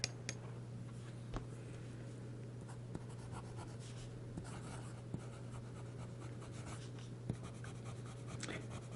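Medium-nib Lamy All-Star fountain pen writing on paper, soft scratchy strokes with occasional sharper ticks as the nib lifts and lands, faint and close against a steady background hum.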